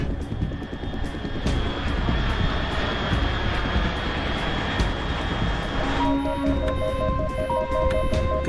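Aircraft engine in the video game Metal Gear Solid 3, a steady loud droning roar held throughout, with game music or electronic beeps entering near the end.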